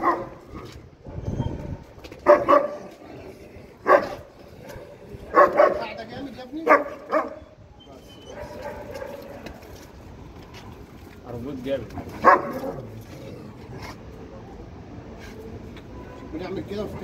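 A fierce dog barks in sharp, loud bursts, several spaced barks in a row, mixed with people talking nearby and a rattling chain.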